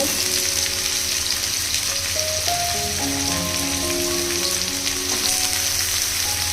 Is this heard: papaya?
yes